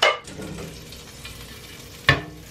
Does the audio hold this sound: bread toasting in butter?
yes